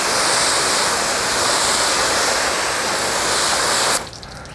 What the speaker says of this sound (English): It's gone to sheeting water, and it's actually sheeting pretty fast.